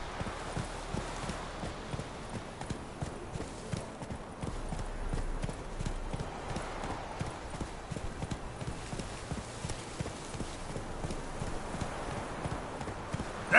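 Horse Roach gallops in The Witcher game, a steady rapid clip-clop of hooves running continuously throughout, moderately loud and close, with a brief whinny-like touch and no talking.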